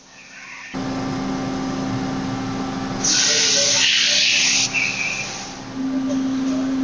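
Lathe cutting a precision rifle chamber hums with a steady tonal whine, joined midway by a louder bright hissing spray of coolant or cutting for about two seconds before settling back.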